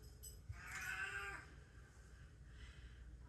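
A pet cat meows once before dinner time, a short, faint mid-pitched cry heard from a little distance over low room noise.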